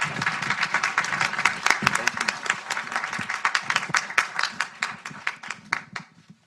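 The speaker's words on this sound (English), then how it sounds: "Please give her a round of applause." An audience at a policy event and film screening breaks into a round of applause, many individual claps rising together and then thinning out into scattered final claps.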